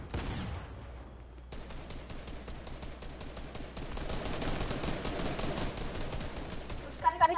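Rapid gunfire in a multiplayer video game, bursts of automatic shots crackling at moderate volume in a fast rhythmic stream, with players talking over it.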